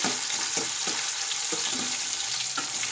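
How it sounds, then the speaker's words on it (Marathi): Tomato sautés in a pan for a quick lunch-box vegetable dish, a steady close sizzle broken by several sharp knocks and scrapes of a spoon stirring against the pan. "आता या टमाट्याला आपण चांगलं सॉफ्ट होईपर्यंत चांगलं परतून घेऊया"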